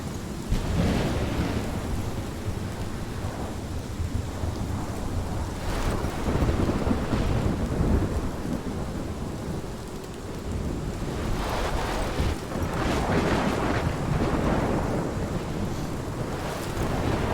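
Steady heavy rain with rolling thunder in a stormy Life is Strange game scene, a continuous dense downpour broken by several deep rumbling swells, loud and close with no voices.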